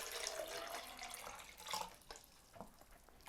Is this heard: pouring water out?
yes